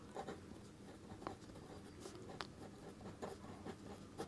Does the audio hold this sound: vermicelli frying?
no